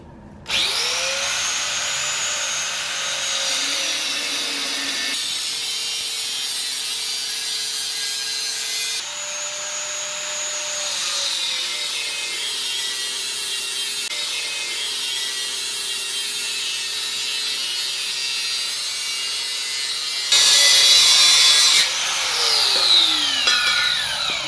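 Turbo intake piping for a K-swap Civic being cut with a power tool: a steady mechanical whine that shifts pitch through several passes, then a harsher burst near the end as the blade finishes. It is close, with no voices.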